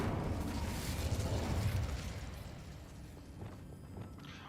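An Incendio fire spell in a wizard video game gives off a roaring, crackling whoosh of flame that holds strongly for about two seconds, then dies down into a quieter, fading rumble.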